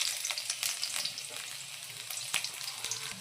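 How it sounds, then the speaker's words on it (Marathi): Whole garlic cloves fry in hot oil in a kadhai, giving a soft, steady sizzle dotted with small crackles and pops, heard up close and fairly quiet. "लसूण मी अख्खा लसूण टाकते"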